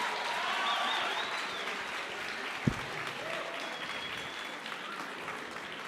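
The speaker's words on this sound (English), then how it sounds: "A round of applause for Miss Ashni, your campus manager" A round of applause for a campus manager at an indoor event rolls on steadily for several seconds, dense and even, with a few faint whoops and one sharp thump partway through.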